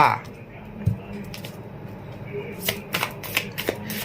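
Tarot cards being shuffled for a reading, soft riffling and flicking bursts up close, growing busier toward the end, with quiet background murmur.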